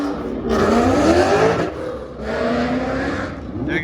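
Jonathan Durham's drift car passes at a drift event the day before Drift Week, its engine surging loudly in two rising pulls with a brief dip between, close and dominant.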